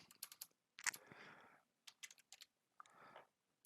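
Fingers type a new name into a computer keyboard to rename a DCS World mission file, producing quiet close-up bursts of clicking keystrokes with short pauses between them.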